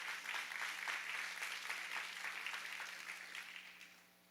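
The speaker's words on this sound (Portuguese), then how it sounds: "então aplauda o Senhor" A church congregation claps together, a quick rhythmic burst of applause that starts fairly full and gradually fades away toward the end.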